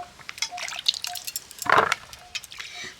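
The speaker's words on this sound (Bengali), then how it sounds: "এবার আমগুলোকে আমি জল থেকে তুলে নেব।" Raw mangoes are lifted out of a bowl of water, with close, bright splashes and trickling drips that peak in one fuller splash partway through.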